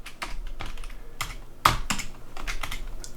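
Typing a terminal command on a computer keyboard: a quick, uneven run of close, crisp key clicks, with one sharper keystroke midway and no talking.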